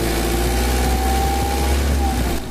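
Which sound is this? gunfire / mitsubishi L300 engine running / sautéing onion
mitsubishi L300 engine running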